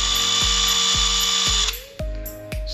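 A cordless impact wrench set to its slowest first gear hammers steadily in a loud, even run of regular impact bursts close by, its motor pitch shifting partway through, with no talking.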